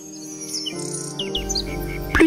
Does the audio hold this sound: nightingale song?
yes